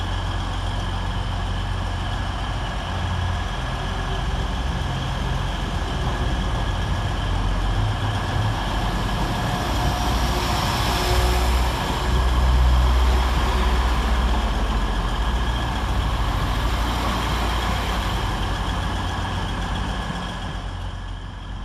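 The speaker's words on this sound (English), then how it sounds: "195131 departs for Blackpool North." Class 195 diesel train departing Bradford Interchange station for Blackpool North, a steady, loud, low engine drone with a droning hum that swells slightly midway as it pulls out, alone with no talk.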